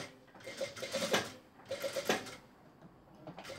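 Domestic sewing machine backstitching a seam on an interfaced knit chemise dress, sounding in two close, short bursts of rapid mechanical stitching with a brief pause between and quieter handling noise after.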